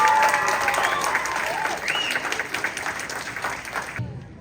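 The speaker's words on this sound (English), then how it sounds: "Let's give a big round of applause to Darryl DMC." A school audience at PS84 applauds Darryl DMC of Run DMC before his children's book reading, a dense burst of clapping with a few cheers that gradually thins and stops abruptly.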